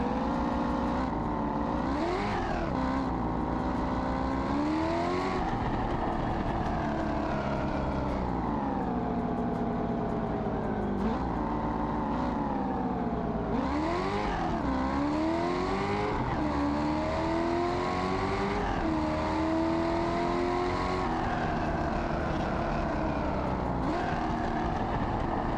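A Corvette C6 ZR1 engine in BeamNG Drive pulls hard on the road, with a loud, sustained engine drone whose pitch climbs through each gear and then drops at each shift, several times in a row.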